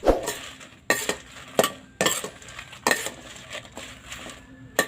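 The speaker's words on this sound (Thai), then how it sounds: "คั่วเครื่องเทศทั้งหมด แต่ละอย่างนะครับ อันนี้คั่วพริกก่อนครับ" Dried chilies and spices dry-roasted in a pan for northern Thai larb seasoning, with repeated scraping and clinking strokes of a utensil against the pan in an irregular stirring rhythm, close and fairly loud.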